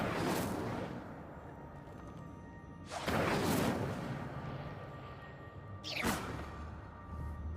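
Incendio fire spell cast in Hogwarts Legacy, three separate whooshing fiery bursts spaced a few seconds apart, each flaring up then fading into a low crackling rumble, faint and with no talk.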